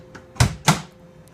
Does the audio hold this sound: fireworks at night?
no